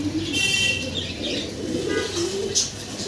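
Pigeons coo and murmur softly in a close loft of show birds, with low rolling calls and light chirps repeating over a steady background hum.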